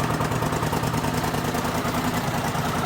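A rebuilt Honda CX500 motorcycle engine runs steadily at idle close by, a dense, even mechanical drone with a fast pulsing rumble and no breaks over the few seconds.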